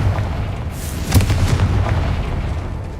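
A single booming blast from the Confringo explosive spell in the video game Hogwarts Legacy, a sharp burst that rumbles over a continuous low ambient bed.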